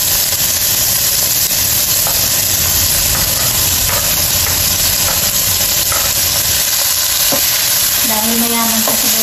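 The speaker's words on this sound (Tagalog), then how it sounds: "magigisa tayo ng ating ingredients. Lagyan natin siya ng cooking oil." Garlic and other ingredients sautéing in cooking oil, loud continuous sizzling and frying close up with scattered stirring clicks against the pan.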